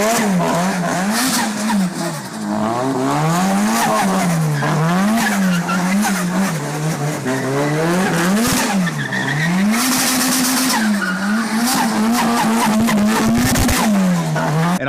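Nissan S13 fitted with a 1JZ engine drifting through the first turn of a track, its engine wailing loud and close in rising and falling revs over continuous squealing tires for the whole stretch.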